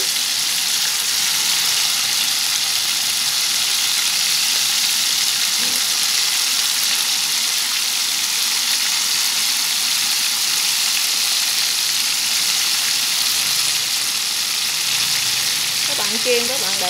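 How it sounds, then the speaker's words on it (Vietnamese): Torn pieces of dried tofu skin deep-fry in oil over high heat, making a loud, continuous bubbling sizzle that runs evenly from start to finish. "chiên các bạn để lửa lớn ha, mình chiên nó mau giòn ha"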